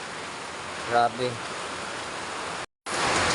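Heavy rain pours steadily and loudly on a flooded, overflowing street in the Philippines during a downpour, a broad constant hiss broken by a brief cutout, with a short spoken exclamation near the start.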